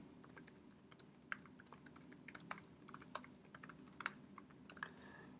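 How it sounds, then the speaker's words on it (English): Someone types their name and organization on a computer keyboard, a quiet, irregular patter of key clicks heard up close and alone. "I'm going to type in my name here and my organization"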